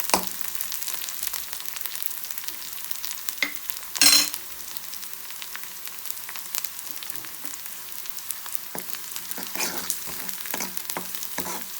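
Steady sizzling and frying in a pan as ghee-roasted Andhra-style palak pappu cooks, with soft stirring scrapes and a brief louder hiss burst partway through, close up with no voices.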